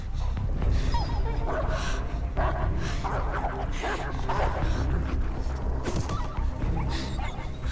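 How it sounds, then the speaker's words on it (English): Dogs in Beyond: Two Souls barking, yipping and whimpering over a busy game scene, the calls close and overlapping in irregular bursts throughout. "I scared the dogs?"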